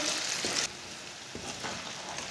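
Taro (arbi) pieces roasting in a hot pan give off a steady, moderate sizzle with a slight drop partway through, no voices present.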